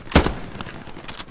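Gunfire in the World War II shooter Hell Let Loose: one loud, close report followed by several fainter, more distant shots scattered across the moment.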